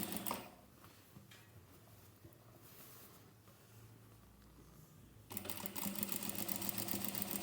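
Domestic sewing machine stitching a waistband onto a wraparound skirt, a steady close mechanical whir and rapid ticking throughout that grows louder and busier near the end.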